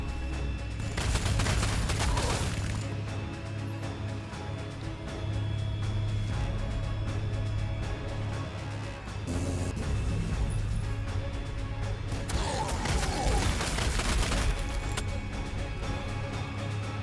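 Units open fire in the strategy video game Sanctus Reach: two separate bursts of crackling volleys, each lasting a couple of seconds, stand out over a steady bed of game music and rumbling ambience.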